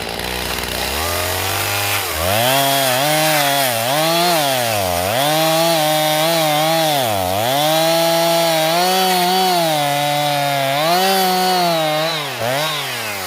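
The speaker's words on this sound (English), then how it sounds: "I just got done cutting down this tree and bucking it up for firewood" A chainsaw cuts through a felled tree in deep snow, bucking it into firewood lengths, loud and close, the engine rising and dipping steadily as the bar bites and eases through the wood.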